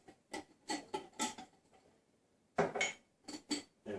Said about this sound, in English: I'm going to put the lid back on and shake it up to kind of get the remnants off of that.